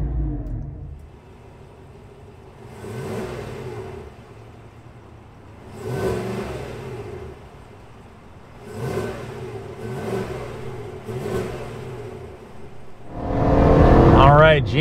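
A 2021 GMC Yukon Denali's 6.2-liter naturally aspirated V8 revs several times in succession, each rise swelling and falling back, ending in a louder, rising surge, heard from moderate distance.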